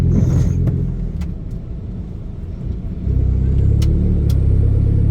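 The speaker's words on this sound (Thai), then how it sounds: "วันนี้รับหน้าที่ขับรถครับ" A car engine rumbles steadily from inside the cabin while driving through slow Songkran festival traffic near Huai Saneng, with a low drone that swells slightly and a few faint sharp ticks over it.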